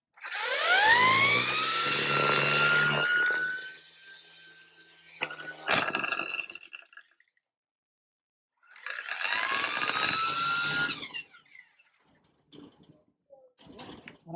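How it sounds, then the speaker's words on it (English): A Ryobi ONE+ 18V brushless cordless string trimmer runs on its low setting, its motor whine rising as it spins up, then cutting out and starting again in a second burst. "as far as a trimmer goes, it feels just as fast as my steel. Switching to low."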